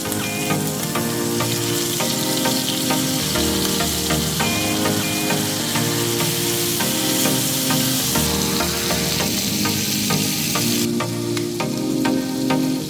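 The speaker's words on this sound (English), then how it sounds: "once it's hot enough, sear the meat in" Pork loin searing in a hot pan for a marsala dish, a loud, steady, close crackling sizzle with no talking.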